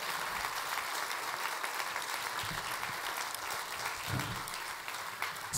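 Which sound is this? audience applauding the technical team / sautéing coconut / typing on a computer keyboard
audience applauding the technical team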